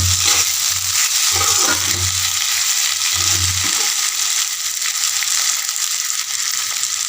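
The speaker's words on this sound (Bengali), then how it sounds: "আগে পেঁয়াজ ভাজা ভাজা হলো ওর মধ্যে দিলাম টমেটো" Onions and tomato frying together in a pan for a Bangladeshi fish curry, a steady close sizzle with broadband hiss that runs throughout, alongside a few low stirring knocks in the first seconds.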